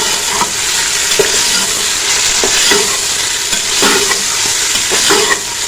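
Meat sizzles steadily as it fries with ginger and garlic in a pan, with a continuous loud hiss and occasional stirring scrapes, no voices.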